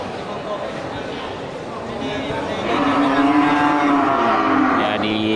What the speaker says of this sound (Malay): Dan banyak sapi-sapi besar ya.